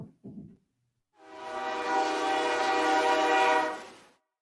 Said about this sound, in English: I want to see the train.